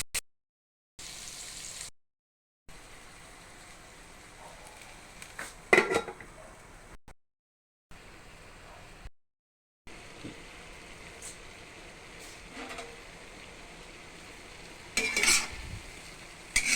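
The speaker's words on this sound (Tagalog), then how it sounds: "Ipiprito muna natin yung tokwa." Tofu frying in a pan for a buttered shrimp dish, a steady low sizzle with scraping and stirring clatter, broken by several short silent gaps and a few sharper utensil knocks.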